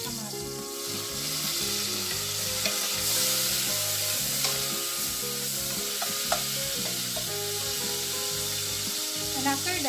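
Onion and tomato sizzle steadily in hot oil while being sautéed for monggo with pork, with a continuous close frying hiss and occasional stirring scrapes, and no talking.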